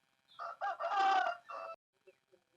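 An aseel rooster gives a single clear crow in several drawn-out segments, close and fairly loud against quiet surroundings, followed by a couple of faint clucks.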